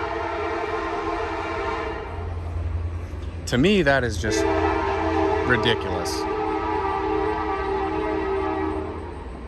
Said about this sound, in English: I'll let this train go by.